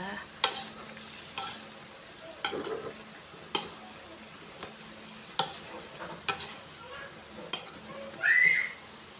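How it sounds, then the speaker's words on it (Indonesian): A spatula stirs sautéed luffa (sayur gambas) in a pan. Sharp scrapes and knocks land about once a second over a soft sizzle, ending with a brief whistling tone. "Lalu saya aduk-aduk lagi sampai bumbunya merata."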